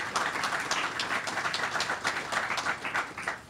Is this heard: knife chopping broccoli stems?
no